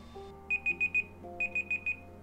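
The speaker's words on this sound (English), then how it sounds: "The alarm's going off." OnePlus 9 Pro phone timer alarm ringing in two bursts of four short, clear electronic beeps each, close and fairly loud, with a quiet hum underneath.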